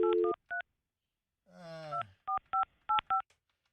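Telephone keypad beeps from a phone call being ended, several short crisp dual-tone presses in quick bursts with a brief noisy garble in the middle, loud and close.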